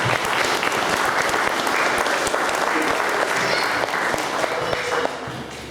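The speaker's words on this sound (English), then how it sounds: "So give yourself a round of applause." Audience applause at a fire department's 90th anniversary ceremony, steady dense clapping filling the room for about five seconds before tapering off at the end.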